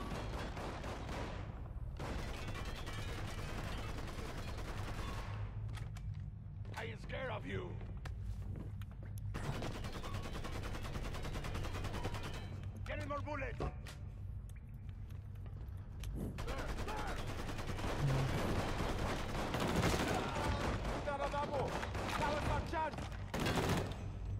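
Gunfire rattles through a Mafia III video game, repeated volleys of shots in dense clusters under and between bursts of talking, with the firing growing heavier toward the end.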